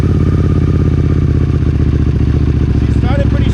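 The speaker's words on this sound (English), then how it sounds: "So let's see how she starts." A 2009 Buell 1125CR motorcycle with voltage issues starts and idles, a loud, close, rapid thudding engine rhythm with mechanical clatter running steadily throughout, and a voice briefly heard near the end.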